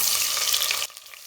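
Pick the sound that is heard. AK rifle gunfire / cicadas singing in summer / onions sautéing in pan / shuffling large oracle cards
onions sautéing in pan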